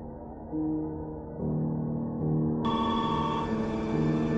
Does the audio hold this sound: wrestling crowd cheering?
no